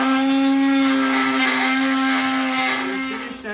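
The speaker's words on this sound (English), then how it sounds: "We finished sanding the first side" A brushless motor sander grinds steadily against a wooden blade clamped to a handle, a loud, close, continuous whine with a strong tonal hum that eases slightly near the end.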